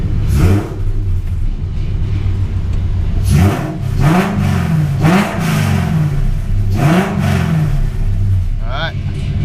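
Coyote-swapped Foxbody car, its engine rumbling loudly close by and revving up several times in rising and falling sweeps, with a voice speaking over it.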